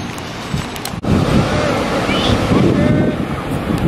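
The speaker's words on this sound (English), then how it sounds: "Headed to the beach." Ocean surf and gusty wind at Myrtle Beach, a steady broadband rush with wind buffeting the microphone after a brief dip near the start.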